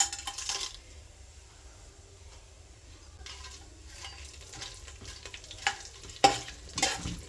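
Whole spices, bay leaf, fennel, cumin, cinnamon and cloves, frying in hot oil and ghee for a mutton biryani tempering, with a soft steady sizzle, spoon stirs and a few sharp clinks of utensils toward the end.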